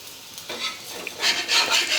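Oil spread over a rava paratha with carrot and wheat flour on a hot pan gives a steady close hiss and sizzle, swelling in waves as it is spread, with no talking.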